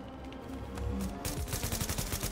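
Rapid automatic gunfire in The Division, a dense rattling burst of shots that starts after a brief lull and keeps hammering steadily to the end, loud and close.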